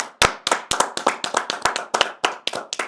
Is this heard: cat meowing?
no